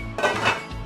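A lid is set down over a pan of frying mee sua, giving one short metallic clatter that settles into a low hiss of cooking.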